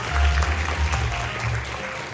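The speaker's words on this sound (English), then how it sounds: "Please give a warm round of applause." A conference audience gives a warm round of applause for an ambassador. The clapping is a dense, even roar of many hands over a low rumble, and it carries on without a break.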